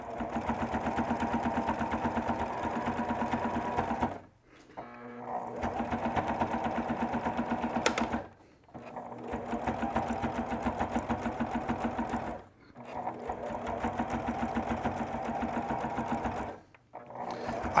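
Sewing machine running a narrow zigzag stitch on a fabric bowl, a loud, fast, steady mechanical whir in long runs of about four seconds, broken by brief stops.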